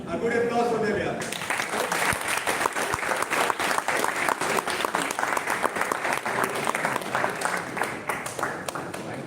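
Dense, sustained applause from an audience at a college personality development session, steady and fairly loud for several seconds after a short stretch of voices at the start.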